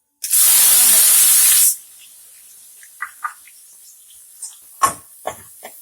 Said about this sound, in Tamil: நல்லா ஆனியன் நல்லா கோல்டன் ப்ரௌன் கலரில் வர வரைக்கும் நல்லா ஃப்ரை பண்ணலாம்.